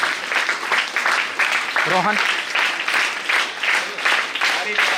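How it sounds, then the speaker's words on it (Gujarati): Applause rolls through the audience at a school award ceremony as a student goes up to receive a prize, steady clapping that stays up throughout while a voice speaks over it. "આપણે સૌ તાળીઓના વિવેકથી વધાવીએ"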